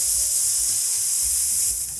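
Onions cooking down in hot oil in a pan for lentils with sausage, giving a continuous bright, close sizzle with faint low stirring bumps underneath and no talk.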